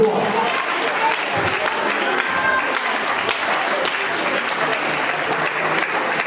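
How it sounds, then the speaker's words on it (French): Loud, steady applause and cheering from a church congregation during a worship service, a dense continuous wash of clapping with crowd noise throughout. "Tu acclames très fort le Seigneur de gloire."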